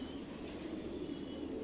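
Racing pigeons coo softly and continuously in a large loft on a pigeon farm, a low, steady murmur of overlapping calls with no talking.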